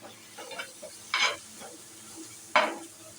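Turmeric and ginger being stirred and fried in a pan, with a soft background sizzle broken by two sharp scraping stirs a little over a second apart, no voices.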